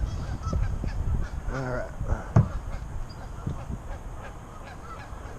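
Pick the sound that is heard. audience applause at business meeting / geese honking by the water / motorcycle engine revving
geese honking by the water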